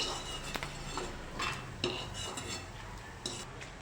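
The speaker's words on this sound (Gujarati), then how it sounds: "હવે આપણે બીજો ગુંદર પણ આવી રીતે શેકી લઈશું" Edible gum (gundar) roasting in a pan while being stirred, with soft scraping and clinks of a spoon against the metal over a faint sizzle, close and steady with a few sharper taps.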